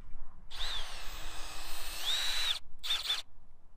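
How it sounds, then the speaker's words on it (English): A power drill bores a hole for a DIY cattle fence, whining loudly for about two seconds and rising in pitch, then stopping before a second short burst, close and alone. "Make sure that's all drilled out really nice."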